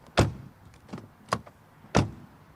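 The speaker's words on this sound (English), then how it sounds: "Door closing sound." BMW SUV door closing, heard as a few sharp, solid thuds spread over about two seconds, with the last one loudest, close by and without speech.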